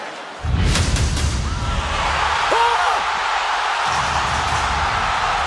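A large wrestling crowd roars and cheers loudly and continuously after a sudden slam, with whoops rising out of the noise.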